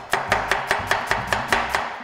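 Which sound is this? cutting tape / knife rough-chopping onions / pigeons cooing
knife rough-chopping onions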